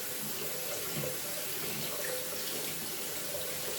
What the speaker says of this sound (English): Rinse the brush. And get all the soap out of it.